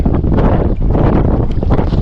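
Strong wind buffets the microphone at sea aboard a small fishing boat, a steady broadband roar with gusty swells running throughout and no voices.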